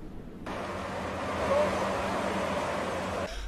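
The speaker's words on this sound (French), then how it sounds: "Voici le tout premier véhicule à franchir la déviation au quartier Yassa." A vehicle crosses a road diversion in the Yassa district, giving a steady engine and tyre rumble that swells slightly as it passes close by, then cuts off abruptly.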